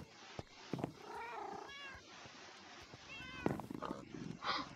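A cat in the Minecraft video game meows several times, rising and falling, close and clear against soft game ambience, with a brief thud or two in between.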